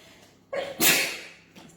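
A single sharp sneeze set off by pepper while cooking, a quick inhale followed by an explosive burst, close and fairly loud.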